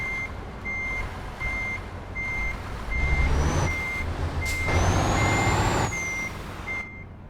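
Steady reversing beeps from a truck backing a trailer in a driving game, evenly spaced and clear over a low engine rumble, with an air-brake hiss and a rising tone partway through.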